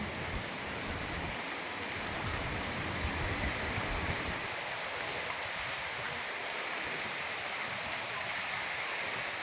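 Heavy rain pours over a market in Moti Gop, Gujarat, with a constant broad rushing hiss, like water streaming and splashing, steady and loud throughout without speech.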